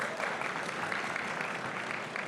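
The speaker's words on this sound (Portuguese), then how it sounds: "Salva de palmas, por favor." Audience applause at a FEBRABAN TECH 2025 banking-technology panel in a conference hall: steady, dense clapping from a sizeable crowd, continuous and fairly even throughout.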